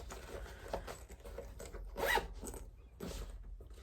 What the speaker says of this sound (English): We need to put our zipper pull on.